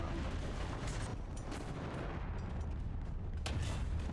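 Tank cannon fire in War Thunder booms out in several heavy shots amid rumbling battle noise, loud and close, with no talk over it.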